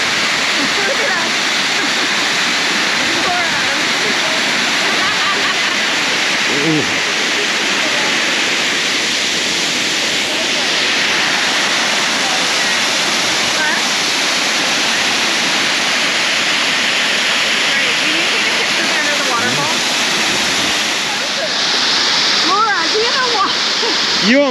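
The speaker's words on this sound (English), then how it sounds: "I want to get a good picture under the waterfall." A waterfall at Lares, Puerto Rico roars loud and continuous from close by, a dense rushing wash of falling water that fills the whole scene while people speak beneath it.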